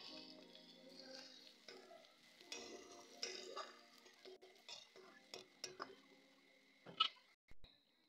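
Fish and tomato with panch phoron spice and turmeric being stirred in a pan, with faint sizzling and scattered scrapes and clinks of a spoon against the metal, quiet and close.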